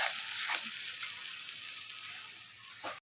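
Spice masala sautés in oil in a pan, a close steady frying hiss with a couple of brief stirring scrapes near the start and end.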